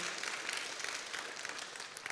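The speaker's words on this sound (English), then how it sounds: "Please give her a round of applause." Audience at a ladies' spring fellowship night applauds, a dense, loud wash of clapping that holds steady for the whole stretch without talk.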